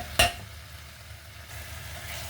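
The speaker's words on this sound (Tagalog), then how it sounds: "Ilalagay na natin yung marinated pork belly." Marinated pork belly dropped into a hot pan with no oil, a sharp loud sizzle at the start that settles into a faint steady crackle.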